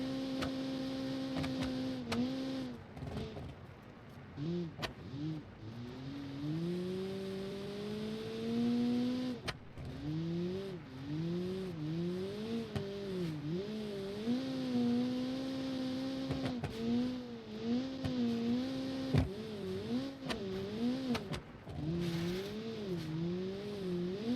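Citroen 2CV engine in a Dakar rally driving game, a steady buzzing drone that rises and falls in pitch as it revs and shifts, continuous and close for the whole stretch.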